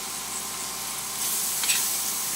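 Leeks sizzling in a hot pan, a soft steady hiss that grows slightly louder partway through, with a brief crackle near the end and no voices.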